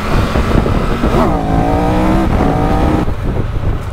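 A 2022 Triumph Tiger 1200 motorcycle with a quickshifter accelerates hard through the gears, engine loud and close with rising pitch sweeps broken by quick shifts, under heavy wind roar.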